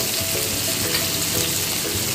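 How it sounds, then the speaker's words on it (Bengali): Mango pieces dropped into hot oil in a pan, left over from frying vegetables for a Bengali fish sour dish, giving a loud, dense, steady sizzle and crackle up close with no talking. "ওই তেলেই আমগুলো ছেড়ে দিচ্ছি।"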